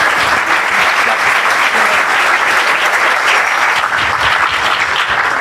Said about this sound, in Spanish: los dejo con el doctor Javier, a quien le dedicamos un caluroso aplauso